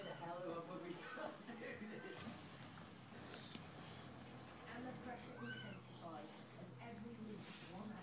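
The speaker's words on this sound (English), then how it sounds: "Benson, want to say hello to the kitten?" A Bengal kitten meowing in short, thin mews under steady nearby voices of people talking, with some shuffling noises around it.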